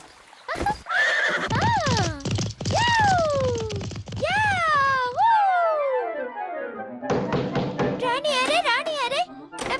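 A cartoon horse in a Tamil-dubbed animated series whinnies loudly several times in quick, falling neighs, with a voice speaking around the calls and a later stretch of higher cries.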